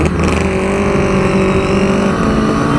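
Allen Millyard's Kawasaki 350 Four two-stroke motorcycle engine, ridden in first gear, gives a loud, steady, buzzing drone with dense harmonics from close by, holding an even pitch throughout with no voices.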